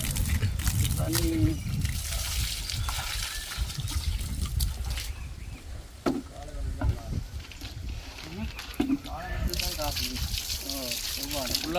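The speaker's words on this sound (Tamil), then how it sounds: "ஃபுல்லாக தண்ணி அடிச்ச பாருங்க" Water pouring into a tank, a steady splashing trickle running throughout at close range, with people talking intermittently over it.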